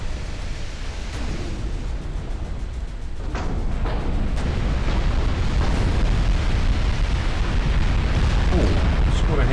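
In a naval battle video game, super heavy shells land with heavy, rumbling booms that build into a continuous roar, with scattered sharper impacts along the way.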